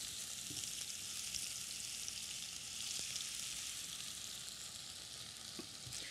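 Tomatoes going into a hot pan of onions over raised heat, a soft steady hiss of sizzling with a few faint clicks, fairly quiet and without talking.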